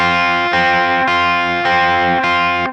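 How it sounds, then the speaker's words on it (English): A distorted electric guitar plays a riff: loud, heavy chords struck in a steady rhythm and repeated about five times. "the distortion comes back on, and there's no chorus. So just kind of the hard sound again."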